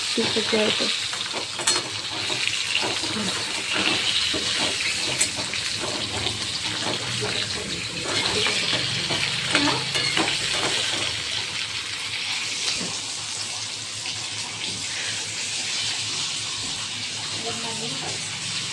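Crab frying in a pan over a low flame gives a steady, close hiss and sizzle with occasional stirring scrapes and clinks, continuous throughout with a voice faintly in the background.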